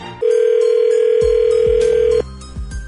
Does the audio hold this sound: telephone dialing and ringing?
yes